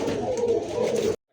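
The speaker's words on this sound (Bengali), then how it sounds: "আসলে এগুলো খুব ইন্ডিয়ান একটা কবুতর ভাই" Domestic pigeons of an Indian breed coo steadily at a pigeon market, a dense, continuous murmur of close cooing that cuts off abruptly near the end.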